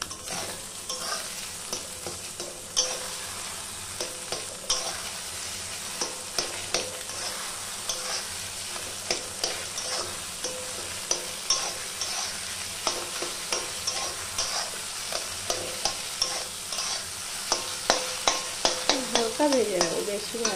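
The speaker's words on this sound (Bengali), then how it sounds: "হালকা ভেজে নেবো, বেশি ভাজবো না, বেশি ভাজলে ডিম না শক্ত হয়ে যায়।" Egg fries lightly in a pan with a continuous sizzle, and a spatula scrapes and taps against the pan repeatedly, growing busier toward the end. A faint voice sounds briefly near the close.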